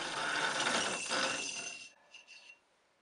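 A hand-spun grinding wheel grinding shell for a wampum button, a harsh continuous rasping whir that fades out after about two seconds, followed by a few faint scrapes.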